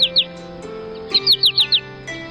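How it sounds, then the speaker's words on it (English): An American goldfinch sings a bright, rapid series of high, sweet chirps and twittering notes in quick bursts, close and clear, with a soft tonal hum beneath. "It's Spinus tristis, today's featured feathered friend,"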